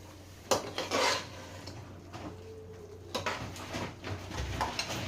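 Rice and potato pieces are stirred together in a cooking pot for a simple dal rice dish, giving scattered scraping and clinking bursts of a utensil against the metal pot, close and moderately loud, with quiet gaps between strokes.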